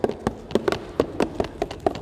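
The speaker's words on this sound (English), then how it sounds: "This is a sound of a marble rolling around in this box." Irregular clicks and knocks of a marble tumbling and bouncing against the walls of a box, close and fairly quick.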